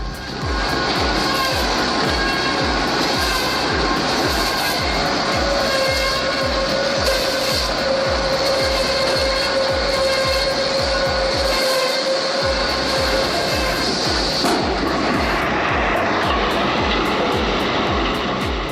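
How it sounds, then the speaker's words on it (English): A heavy shredder grinds through dense tree roots and stumps into chips. It makes a loud, continuous mechanical roar with rapid rhythmic thumping and a sustained whine throughout, with no voices. "The shredder rips through dense root structures, delivering uniform chips ideal for biomass fuel or mulch."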